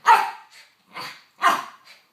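Dogs bark close by in three loud bursts, each followed by a softer yip, with quick rough barks separated by short silences.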